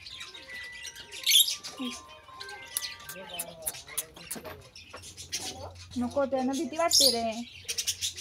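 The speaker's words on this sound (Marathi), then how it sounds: "पक्षी पण छान छान आहेत, पण ते कैद करून ठेवले" Small birds chirp and tweet in quick bursts close by, while people talk over them throughout.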